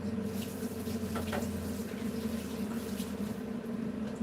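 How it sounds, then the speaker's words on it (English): Tap water runs steadily in a home kitchen while something is rinsed under it during pudding making, a continuous close splashing rush with no speech. "Wash this off."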